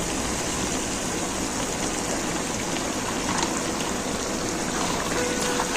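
Masala spices for degi aloo gosht sizzle and bubble in oil and water in a pot, a steady, moderately quiet hiss and crackle that continues evenly without pause.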